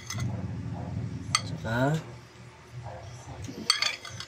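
Spoon clinking against a bowl while kilawin is mixed with onion, a few bright metallic taps in quick bursts amid soft stirring, with people talking throughout.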